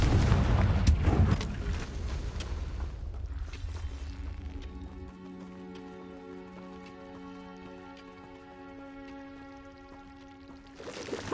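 Confringo fire spell blasts in Hogwarts Legacy, a loud burst of booming, crackling fire at the start that fades into a ringing, sustained magical shimmer before another rising swell at the end.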